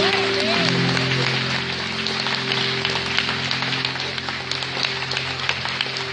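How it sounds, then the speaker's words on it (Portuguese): Church congregation applauding in praise, a dense continuous wash of clapping under a steady sustained tone of music, fairly close and even throughout. "Vamos aplaudir a nosso Deus."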